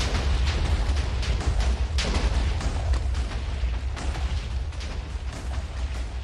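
Explosions keep going off in a dense, continuous rumble with repeated sharp bursts and booms layered over heavy low-end roar, steady and loud throughout.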